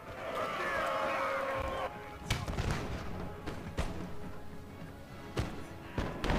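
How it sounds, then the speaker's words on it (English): Musket volleys in Napoleon: Total War: scattered booming shots and thuds crack out at intervals, some distant, some closer, over a low battlefield rumble, with a voice speaking briefly at the start. "Men with the rifle shoot."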